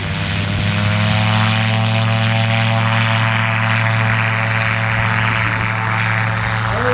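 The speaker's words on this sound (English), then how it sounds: "Landing now is the AR-1, Greg Spicola at the wheel." AR-1 gyrocopter with a stainless steel frame and a Rotax 914 engine landing at a gyro event in Wauchula, Florida, a loud continuous propeller and engine drone with steady tonal hum throughout.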